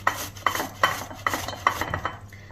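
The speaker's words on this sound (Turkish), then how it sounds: "Sonra rende yardımıyla rendeliyorum." Halved tomatoes rubbed against a metal grater, a steady series of scraping strokes about every half second, close and fairly quiet with no talking.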